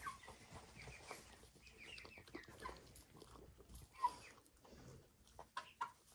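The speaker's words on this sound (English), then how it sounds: "it looks like the chickens maybe are a little interested in him" Chickens cluck softly in an outdoor yard, with scattered short calls and a few sharper peeps among low background noise.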